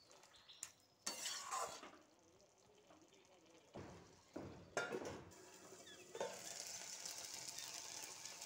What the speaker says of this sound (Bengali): জিরের গুঁড়ো দিয়ে এবার আমি ভালো করে নাড়িয়ে আবার ঢাকা দিয়ে কিছুক্ষণ হতে দেব